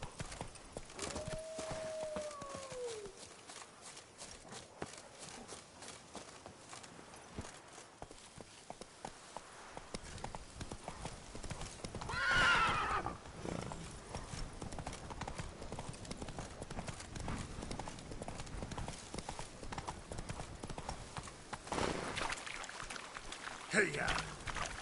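Hooves of the horse Roach clip-clop steadily in The Witcher 3, a rhythmic running gait with a brief whinny near the start, under game music and ambience.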